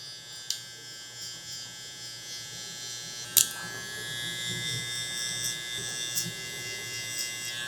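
Electric hair clippers buzzing steadily while cutting a low taper on curly hair, a faint continuous whine with a couple of sharp clicks.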